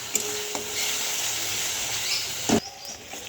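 Spice masala sautéing in a pan, a continuous close sizzle with a few scraping stirs and a sharp clatter near the end, no talking.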